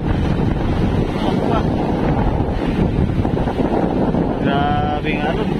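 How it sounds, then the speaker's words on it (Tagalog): Strong wind buffets the microphone in a constant, heavy rush while big sea waves roll and crash in Dilasag, Aurora ahead of typhoon Mawar, with a voice briefly speaking near the end. "Grabing alon"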